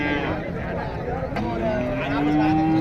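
Cart bullocks moo at a cattle market in Tiruppur. A long low moo rises through the middle and end, with steady crowd chatter and voices underneath.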